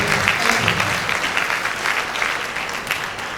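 An audience at a World Elder Abuse Awareness Day event in Abia claps loudly and steadily, a dense wash of applause sustained throughout without talking.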